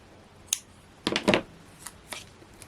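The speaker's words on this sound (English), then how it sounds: "and some scissors." Scissors cutting craft paper, a few separate crisp snips and rustles spread over a couple of seconds, close and quiet with no voices.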